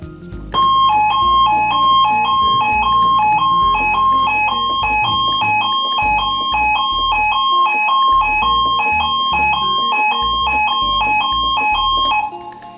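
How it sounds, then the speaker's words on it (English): An electronic alert siren from a RadioShack 12-259 radio loops a repeating melodic pattern of high beeping notes, loud and steady throughout, with no talking. "No, it has a different siren, completely new."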